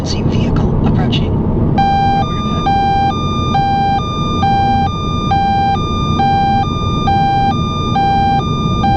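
A Cobra radar detector sounds its emergency vehicle alert, a loud repeating electronic two-tone beep pattern over road and engine rumble inside a moving vehicle.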